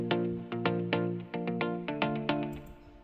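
Ample Guitar virtual guitar strumming with the strum time turned down, giving quick repeated chord strokes in a steady rhythm, close and bright, with no voices.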